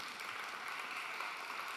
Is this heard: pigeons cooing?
no